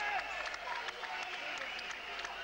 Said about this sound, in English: The cheers from the crowd there.